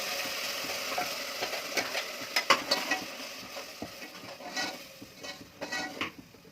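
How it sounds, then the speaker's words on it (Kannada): A ground spice paste cooks in a pan with a soft bubbling sizzle, broken by intermittent stirring scrapes and light clinks of a utensil against the pan, quiet and close. "ಸ್ವಲ್ಪ ಎಣ್ಣೆ ಬಿಡೋರ್ಗು ಸ್ವಲ್ಪ ಕುದಿಸ್ತೀನಿ."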